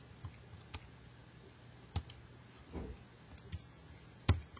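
A few soft, scattered key presses on a graphing calculator keypad while a function is entered, faint isolated clicks spaced irregularly over quiet background hiss.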